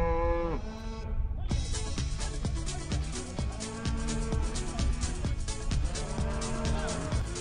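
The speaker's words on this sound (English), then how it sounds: "We just had 20 cows walk across the path of where our cables are." A herd of about twenty cows crosses a path laid with fibre optic cables, mooing loudly and repeatedly in long, drawn-out calls, with scattered thuds beneath.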